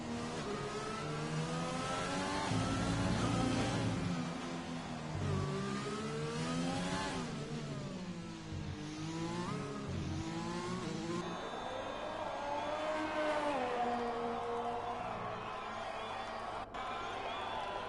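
A McLaren Formula 1 car on a hot lap at Spain in the F1 2020 video game, its engine note rising and falling through repeated gear shifts and revs, loud and continuous.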